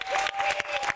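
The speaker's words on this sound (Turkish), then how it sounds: "koca bir alkış rica ediyorum sizden" Audience applause at a television awards ceremony honoring a daytime talk show, steady dense clapping from a crowd throughout, loud and continuous with no voices over it.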